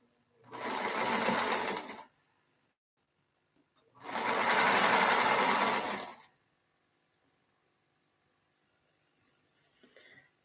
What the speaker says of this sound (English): I'm going to sew another seam or two.